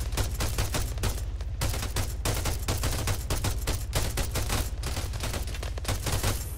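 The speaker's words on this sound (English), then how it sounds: "We're taking fire from the southwest." Dense, rapid gunfire from rifles and machine guns in the military shooter Arma 3, with loud, close bursts and volleys crackling almost without pause for the whole stretch.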